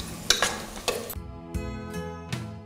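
Green chillies drop into hot ghee for a Rajasthani khichdi, giving a short burst of stirring and sizzling with a few spoon scrapes against the pan, close and fairly loud.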